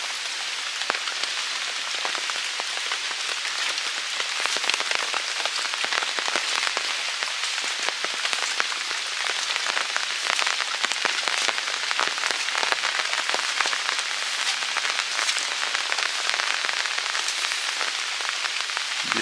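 Heavy rain pours steadily onto a village courtyard, a dense, constant hiss of drops with scattered louder splashes, continuous and close with no voices.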